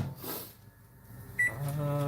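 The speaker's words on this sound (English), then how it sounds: "Pop this in the microwave." A microwave oven is loaded and started in a home kitchen, with soft handling noises, a short high beep, and then the steady hum of the running oven.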